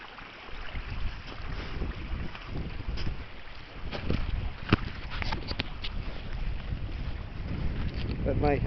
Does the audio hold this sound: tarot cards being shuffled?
no